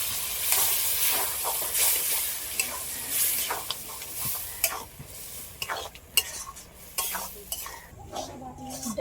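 Lentils and spinach go into a hot pan and are stir-fried, with continuous sizzling mixed with scraping and clinking of a utensil against the pan, close and busy throughout.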